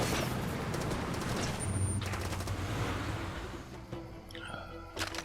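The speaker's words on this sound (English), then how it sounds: "Someone shooting at me." Enemy gunfire in Far Cry 2 crackles as a dense, distant fusillade of overlapping shots, with a few sharper louder bursts near the end.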